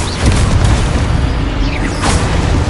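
Confringo fire-blast spell cast in the video game Hogwarts Legacy, a loud booming burst with crackling debris that holds steady through the clip and rises again near the end.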